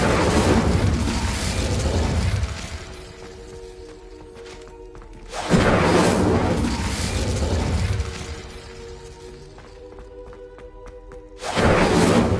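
Incendio fire spell cast in Hogwarts Legacy, heavy roaring bursts of flame that whoosh in, sustain for a couple of seconds, then fall away, repeating three times with lighter mechanical clinks between.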